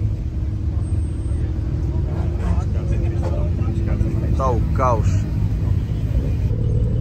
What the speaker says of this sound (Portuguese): estão 500 carros em pista